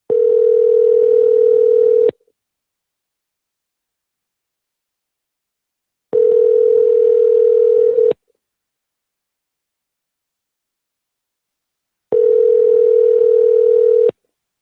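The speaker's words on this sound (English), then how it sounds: "We got another number for Candace, so let's call this." A telephone dial tone sounds while a call is being placed: three loud, steady two-second tones separated by four-second silences, clean with no voices.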